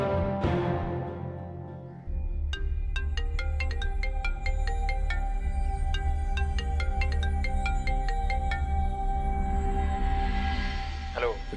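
A phone ringtone plays a repeating melodic chime pattern, steady and fairly loud for several seconds, over a low background hum before fading out at the end.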